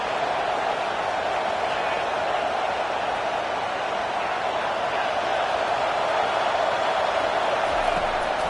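A loud stadium crowd at a college football game between the Aggies and Michigan sends up a steady, unbroken roar for the whole stretch, with no distinct voices standing out.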